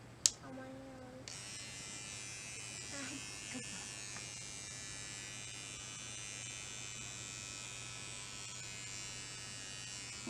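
Electric hair clipper buzzing steadily close by while cutting a toddler's hair, a continuous hum that runs for several seconds after a short click as it switches on.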